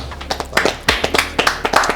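Audience clapping for a guest named Vanessa on a French talk show, a short round of distinct, fairly close hand claps in an uneven rhythm, with no voice over it.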